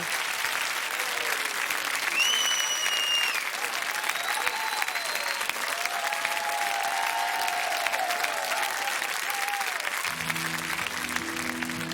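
A television studio audience applauds a duet performance in a steady, full round of clapping, with faint musical tones over it and music starting near the end.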